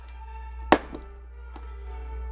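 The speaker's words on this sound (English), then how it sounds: "get out the box cutter, lay it on where my finger marked it, press down, and it cuts it right off." A box cutter pressed down through a stereo cable on a chopping block gives a single sharp thunk, followed by a faint tap in an otherwise quiet room.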